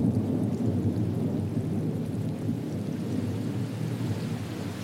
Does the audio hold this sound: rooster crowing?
no